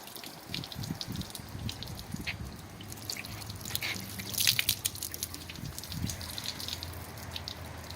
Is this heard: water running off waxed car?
yes